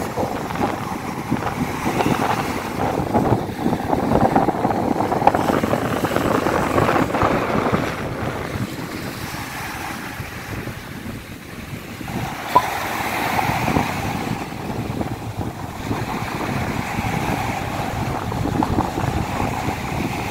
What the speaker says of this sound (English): The waves aren't crazy, so it's pretty windy though, so it's gonna be cold.